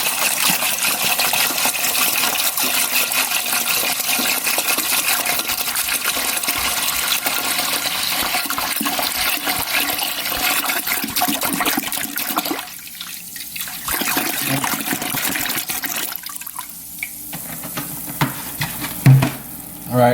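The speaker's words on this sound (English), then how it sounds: "So first I'm gonna just start off by putting the apple cider" Apple cider pours into a pot, a loud, steady splashing gush that runs for about twelve seconds, then breaks into shorter, gurgling bursts and drips.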